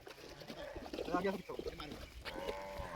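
A cow approaching outdoors gives a few short, low moos amid rural background noise, while people talk nearby.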